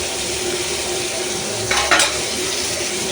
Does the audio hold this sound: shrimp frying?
yes